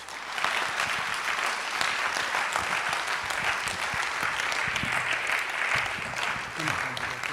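Dense, sustained applause from a lecture audience fills several seconds at a medical college public lecture, a steady even roar of many hands clapping together without a break.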